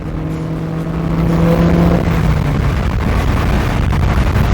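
Car engine downshifting on a winding mountain road near Mount Kinabalu in Borneo, a loud close drone that swells as the revs climb, with a brief tonal whine early on.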